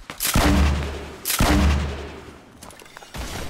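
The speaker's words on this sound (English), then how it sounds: "Use your grenade launcher." Two heavy, booming grenade launcher shots from Fortnite, played on PC, each with a long rumbling decay, loud and close, followed by a softer thump near the end.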